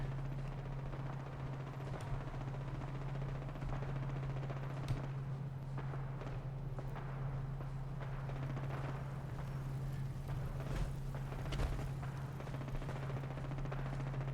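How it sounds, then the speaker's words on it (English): Distant bursts of video game gunfire in modded Fallout 4 crackle through a steady low engine-like rumble, with scattered sharp cracks across the whole stretch and no voices. "we'll see maybe what's going on with all the gunfire over here"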